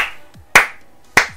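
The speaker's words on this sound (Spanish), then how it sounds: "Un aplauso, por favor." Two sharp, close hand claps ring out about half a second apart, each decaying quickly into near silence.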